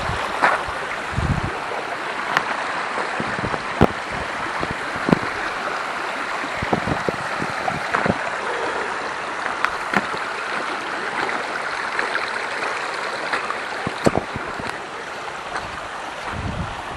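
A stream near a dam flows in a steady broadband rush, heard up close while someone crosses it, with occasional splashes and knocks over the continuous water noise.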